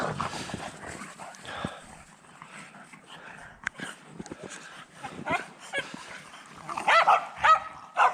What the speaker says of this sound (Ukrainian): О, собакенний.